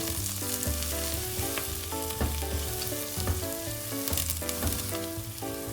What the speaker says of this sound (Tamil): ஒரு பிடி கருவேப்பிலை காம்பு அதை போட்டு பிச்சு கிளறி விட்டுட்டு